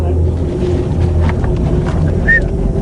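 Boat engine idling at the mouth of a mangrove on the Rio Tuba while a crocodile trap is checked; a steady low motor hum runs throughout under wind noise, with brief voices in the background.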